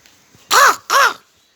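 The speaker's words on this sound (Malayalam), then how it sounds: "ദാ കാക്ക ഭക്ഷണം കഴിക്കുകയാണ്." A crow eating offered food gives two loud, close, harsh caws in quick succession, then falls silent.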